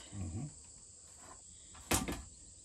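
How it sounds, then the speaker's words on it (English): The door of a vintage camper swings shut with one sharp, close clack near the end, after quieter rustling, over a steady high insect-like hiss in the background. "Close the door one more time and I'll tell you."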